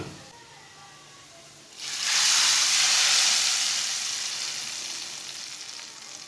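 Hot oil with browned onions is poured into cooked chana dal and sets off a sudden loud hissing sizzle about two seconds in. The hiss swells, then slowly fades over the next few seconds after a quieter start.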